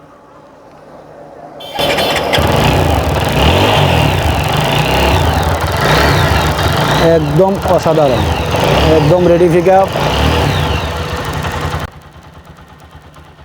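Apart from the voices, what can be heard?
used motorcycle engine running and revving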